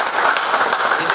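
A crowd applauds loudly and steadily, a dense wash of clapping filling the short moment without pause, close and full.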